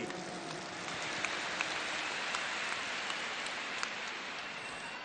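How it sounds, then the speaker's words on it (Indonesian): A large stadium crowd at a political speech event in the JIS stadium claps continuously, forming a dense, even wash of applause that sounds distant and fairly faint, with a few sharper claps standing out. "Tepuk tangan untuk semua yang memilih hadir di sini."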